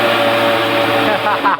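A mixer grinder grinding cashews and peanuts whirs as a loud, steady motor drone with a constant hum, the pitch wavering slightly near the end.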